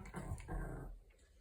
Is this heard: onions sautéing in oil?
no